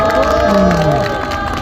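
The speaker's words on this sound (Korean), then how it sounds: "참 박수 한번 부탁드리겠습니다" An outdoor protest rally crowd at a fountain plaza in Changwon cheers and shouts loudly, with some clapping under the noisy voices.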